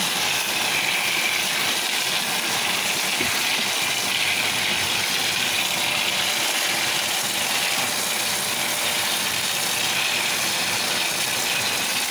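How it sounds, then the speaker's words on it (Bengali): Pressurized water washing an air conditioner's cooling fan during AC servicing, a loud, steady rushing hiss with faint mechanical rattling, running continuously without a break. "দেখতে পাচ্ছেন এসির কুলিং ফ্যান পরিষ্কার করা হচ্ছে"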